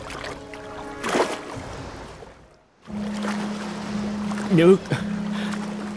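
A cartoon storm at sea with a boat, rushing water and wind rising and falling, a brief dropout midway, with voices shouting and speaking over the noise.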